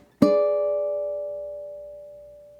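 A single ukulele chord of the seventh bar of St. James Infirmary, plucked once with a sharp attack and left to ring out, fading slowly and alone.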